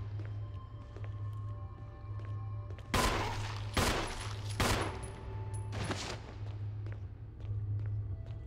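Gunfire in the video game Resident Evil: a tight cluster of several loud shots midway, set over a steady low in-game hum, with quiet stretches before and after.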